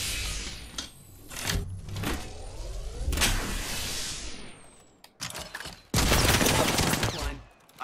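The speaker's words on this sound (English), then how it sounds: "I am taking fire, friends" Bursts of video game gunfire in a chaotic shootout, loud and close, with rapid volleys broken by short pauses and a final sustained barrage.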